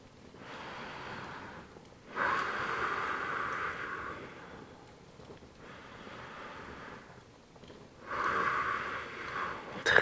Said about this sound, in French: on veut juste respirer profondément